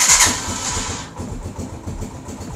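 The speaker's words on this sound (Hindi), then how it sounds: "कुछ देर स्टार्ट रखते हैं व्यूअर्स ताकि इसका इंजन ऑयल थोड़ा सा वार्म अप हो जाए" A Honda CG 125 motorcycle that has sat unused for many days starts with a loud burst, then settles into a steady, close, pulsing idle as its engine oil warms up.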